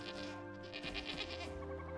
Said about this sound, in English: Let me check on the barn out here and the goaty goats.